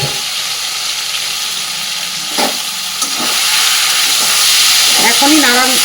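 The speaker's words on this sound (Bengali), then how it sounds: "কড়াইয়ের মধ্যে সর্ষের তেল দিয়ে দিলাম, কালো জিরে, ভেজে রাখা কাজলি মাছ আমি এর মধ্যে দিয়ে দেবো।" Fried kajoli fish going into hot mustard oil with black cumin in a wok, giving a steady broadband sizzle that swells louder toward the end, with a few clinks of a utensil.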